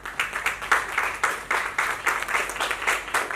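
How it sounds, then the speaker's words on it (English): An audience applauds together in a steady, sustained burst of clapping from many hands, filling the room with no talking over it. "give a big round of applause to the team"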